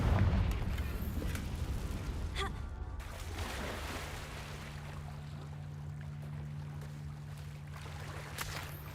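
The Confringo fire-blast spell in the video game Hogwarts Legacy, heard as a heavy explosive burst and rumble at the start that decays into a lingering low hum and ambient game noise.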